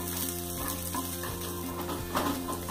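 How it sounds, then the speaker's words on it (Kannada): Chopped onions frying in a pan for peanut chutney, a steady close sizzle with a few soft scraping stirs and clinks of a spatula, no talk. "ಈರುಳ್ಳಿಯನ್ನ ಹಾಕಿ ಈರುಳ್ಳಿ ಸಹಿತ ಸ್ವಲ್ಪ ಕಂದು ಬಣ್ಣ ಬರೋವರೆಗೆ"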